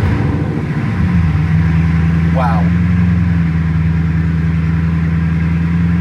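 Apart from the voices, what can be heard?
Bugatti Chiron Sport engine starting and idling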